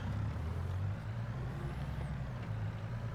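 Heavy truck engine in Farming Simulator 22, a steady low diesel rumble droning close and continuous, with a faint high whine drifting briefly over it.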